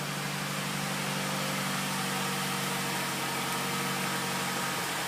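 A 2011 Nissan Rogue engine idles after a remote start, giving a steady low hum with a faint drone under a broad hiss, unchanging and moderately quiet throughout.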